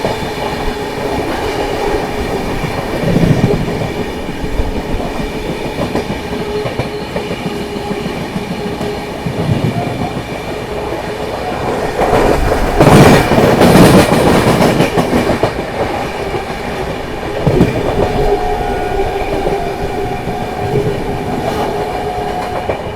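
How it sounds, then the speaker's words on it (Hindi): The Prayagraj Humsafar Express runs through Tundla Junction, with rolling wheels and rhythmic clickety-clack heard nearby throughout and a louder surge of rattling and squealing over points midway. "चलिए, अपनी प्रयागराज हमसफर एक्सप्रेस स्किप करने जा रही है टूंडला जंक्शन।"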